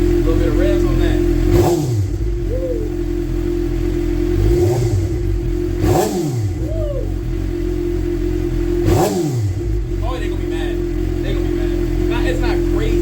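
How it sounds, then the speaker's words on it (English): A 2012 Suzuki GSX-R750 motorcycle with an M4 slip-on exhaust idles steadily, then rips through three sharp throttle blips spaced a few seconds apart, each rising and falling quickly, recorded close up. "A little bit of revs on that."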